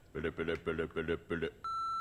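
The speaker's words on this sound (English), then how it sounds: "Phone started ringing and guess who left a voicemail?" A telephone rings in five rapid pulsing bursts, then a single steady, sustained voicemail beep follows, fairly quiet and heard alone.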